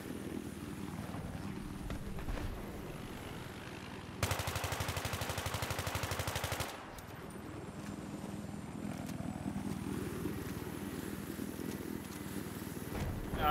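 A burst of rapid automatic gunfire in Battlefield 3 rattles for a couple of seconds in the middle, framed by a helicopter's continuous rotor drone and engine hum before and after, with no talk.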